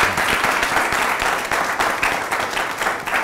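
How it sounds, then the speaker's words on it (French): An audience applauds the US ambassador to Côte d'Ivoire, Richard K. Bell, at a public talk, a steady, moderately loud patter of many hands with slight swells and no voices over it. "je demande au public de vous applaudir très fort."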